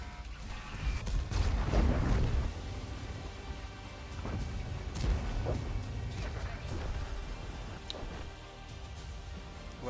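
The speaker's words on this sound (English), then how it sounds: "Fuck artillery, bro." Artillery fire in a tank video game: several heavy, booming blasts and impacts, the loudest near the start, followed by more scattered thuds over steady low rumble.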